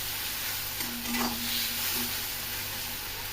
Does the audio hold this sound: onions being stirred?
yes